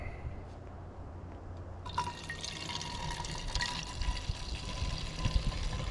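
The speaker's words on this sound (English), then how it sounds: "We're going to pour some of this in our foam cannon." Car wash liquid is poured into a foam cannon: a steady, close liquid pour that starts suddenly after a quiet pause and keeps up a continuous splashing trickle until the end, with no talking.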